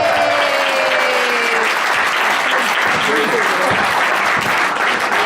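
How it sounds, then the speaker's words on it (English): Audience at a live Edinburgh talk in 2014 breaks into sustained, dense applause for Ali, steady and loud across the whole stretch with a faint crowd murmur underneath. "So give Ali a big round of applause"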